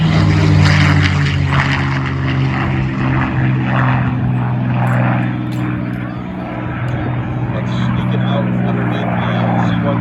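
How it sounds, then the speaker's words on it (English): A Fairchild C-123 transport plane with two large R-2800 radial piston engines drones overhead at an airshow, banking while its steady propeller roar swells and eases, with an announcer talking over it. "right now the C-123 banking in for you to show you this big, beautiful beast"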